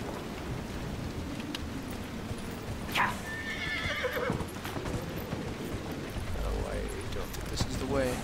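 A horse in Dragon Age: Inquisition whinnies loudly and close while hooves clop along, with rain and distant thunder in the background and someone speaking briefly over it.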